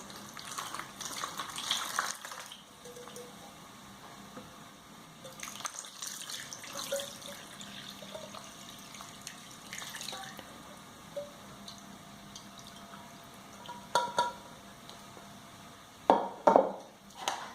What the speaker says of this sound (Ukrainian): Маринад охолонув, заливаємо ним рибку.